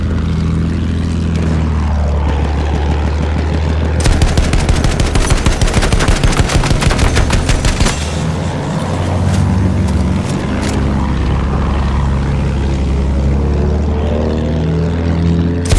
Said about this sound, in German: Flugzeug da oben.